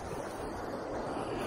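Ocean surf breaks along the shore at a Georgia state park beach, producing a steady, dense rushing wash with wind buffeting the microphone and no voices.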